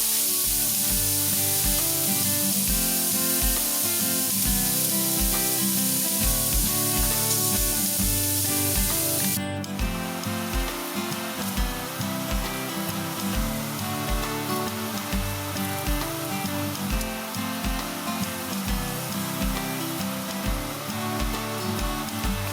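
Chicken and shrimp kebobs cook on a grill with a constant hissing sizzle, loud and close, holding steady throughout without speech.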